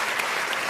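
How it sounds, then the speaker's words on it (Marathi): An audience at an awards ceremony claps for a ghazal and Sufi singer in a brief, dense burst of applause, close and steady, with no talk. "एकदा जोरदार टाळ्या झाल्या पाहिजेत"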